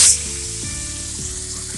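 Ground onion and tomato paste dropped into hot spices in a pan for Dhaba-style green peas masala: a sharp hiss at first, then a steady close sizzle that keeps going on its own.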